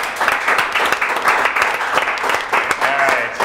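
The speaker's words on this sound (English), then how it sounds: "Can I get a round of applause, please?" Applause from an audience at a hackerspace soldering demonstration, dense steady clapping that holds for the whole stretch, with a few voices calling out over it near the end.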